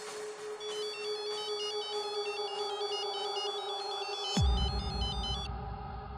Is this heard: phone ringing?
yes